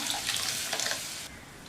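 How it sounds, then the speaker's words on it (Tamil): Water pours into a pot of sambar during cooking, a soft, close, steady splashing hiss that cuts off abruptly after about a second. "ஒரு 1/2 கப் அளவுக்கு தண்ணி சேர்த்துருக்கேன்."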